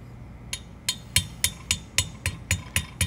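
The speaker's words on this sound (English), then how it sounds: "anytime you're using a hammer on these roll pins, you want to just give it light taps and work that roll pin in" Light hammer taps driving a roll pin into a metal ground fueling hydrant valve, about ten sharp, evenly spaced metallic strikes coming close together and growing slightly firmer, close and clear with no talking.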